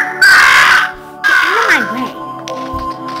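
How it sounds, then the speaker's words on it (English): Crow people in the Monument Valley video game cawing: two harsh, drawn-out caws in quick succession, loud and close, followed by soft game chimes. "Oh, wait. There's another crow."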